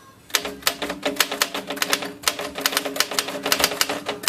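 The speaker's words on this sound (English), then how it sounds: "when we bring a typewriter back to life. Latest is this nice Underwood." Crisp, rapid keystrokes from a restored vintage Underwood typewriter, roughly 80 years old, sound up close in an irregular, steady burst with no voices.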